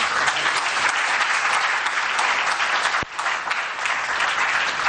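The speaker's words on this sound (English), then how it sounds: "a round of applause again for Honorable Isaac Adongo." Audience at a political public budget forum applauding, a dense steady wash of many hands clapping throughout, loud and sustained.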